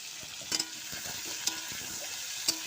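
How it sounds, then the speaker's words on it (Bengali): Potatoes frying in a pan, a quiet steady sizzle broken by a few sharp ticks and pops at roughly one-second intervals, with no talking. "আলুগুলো লাল লাল করে ভেজে নেব।"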